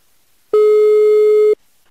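A single steady telephone line tone sounds for about a second during a call placed on a radio program, loud and clean against near silence before and after.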